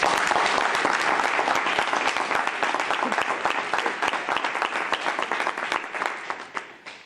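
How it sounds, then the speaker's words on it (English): A room at a congressional hearing on mothers of lost children breaks into a full round of applause, dense and sustained, then thinning toward the end. "Can we give her another round of applause?"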